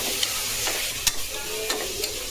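Mutton sautéing in oil with chilli powder, garam masala, coriander powder and turmeric for a mutton and knol-khol gravy: a steady close sizzle broken by a few sharp scraping stirs.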